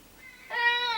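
A house cat gives a single drawn-out meow that starts quiet and swells to a clear, fairly loud cry, heard alone indoors.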